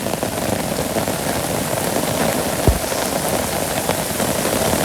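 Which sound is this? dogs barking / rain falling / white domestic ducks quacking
rain falling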